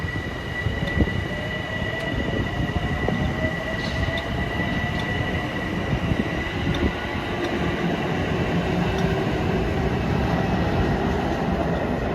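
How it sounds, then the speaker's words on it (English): A Long Island Rail Road train from Jamaica to Port Jefferson passes on triple track on a clear day, a loud continuous rumble with steady wheel-on-rail roar and a faint high squeal, no talking. "Train 652 from Jamaica to Port Jeffers, closing in on 2052. They should be rocketing east on number 1."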